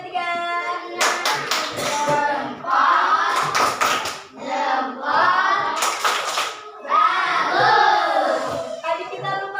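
A classroom group of Indonesian schoolchildren doing a rhythmic thumb-clap chant, bursts of sharp hand claps mixed with children's sung and spoken voices, close and lively throughout.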